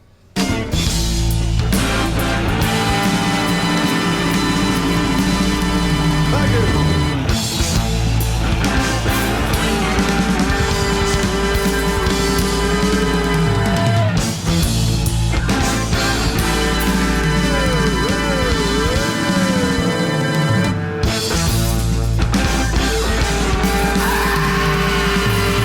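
A recording plays as a dense, continuous band mix with steady low bass, sustained layered instruments and wavering tonal sweeps, loud and unbroken across the whole stretch, without anyone talking over it.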